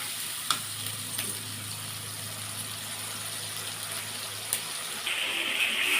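Spice paste loosened with a little water for a Bengali rohu fish kalia sautés in a pan with a soft, even sizzle and a few faint utensil taps, the hiss brightening near the end.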